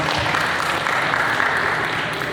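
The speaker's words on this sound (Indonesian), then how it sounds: "Terima kasih tepuk tangan buat BSI." Audience at a community film event in Tangerang, Indonesia, gives a short burst of applause, a thick, even wash of many hands clapping together for a couple of seconds.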